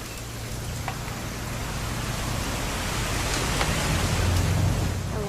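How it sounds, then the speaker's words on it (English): Rain pours down steadily in the video game What Remains of Edith Finch, a dense, loud, even hiss with a low rumble beneath it that swells slightly toward the end, with no talking. "It's gonna rain the whole weekend"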